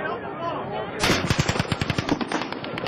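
A rapid burst of automatic gunfire erupts from Mandalay Bay after a moment of muffled background noise, a long string of cracking shots echoing at a distance.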